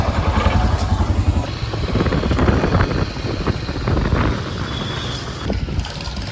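A motorcycle, low on petrol, rides steadily along the road with its engine humming loud and close throughout, mixed with heavy wind buffeting against the microphone.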